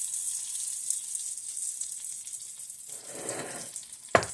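Potatoes fry in a pan for a breakfast potato hash with smoked sausage, a steady high sizzle throughout that thickens into a louder, fuller crackle near the end, capped by a sharp clack.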